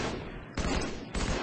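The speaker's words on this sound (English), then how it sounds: "I shot him like infinity billion times!" Gunfire from the Halo video game roars in loud, dense bursts, a sustained volley that surges again twice with sharp fresh onsets, with no talking over it.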